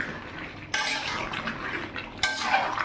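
Potatoes go into a pot of browning mutton with two sharp metallic clatters of utensil against pot. Quieter scraping and stirring noises run between them.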